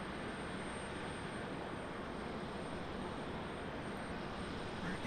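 A JetBlue airliner taxiing at Raleigh-Durham International gives off a steady, even engine rumble that stays at one level, far and unbroken, with no voices.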